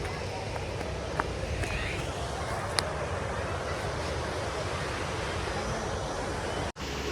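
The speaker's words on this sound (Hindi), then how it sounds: "पानी की आवाज़ बहुत ही आत रही" Water rushes over the Panchdhari dam in Raigarh in a steady, loud, unbroken roar that fills the whole scene, with occasional faint clicks over the top.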